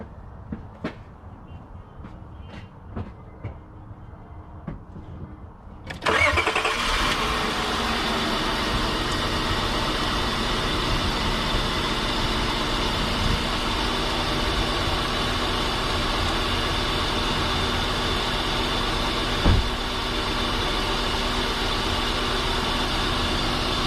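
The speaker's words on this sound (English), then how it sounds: "I'm going to start the engine right now." A few quiet clicks and knocks, then a 2004 Honda Pilot's engine abruptly cranks and fires up, settling into a steady, continuous idle hum that runs on.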